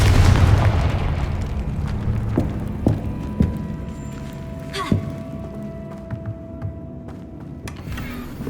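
A Confringo explosion spell in the video game Hogwarts Legacy bursts with a loud, booming blast at the start whose rumble slowly decays, followed by scattered pops, thuds and a lingering tonal hum.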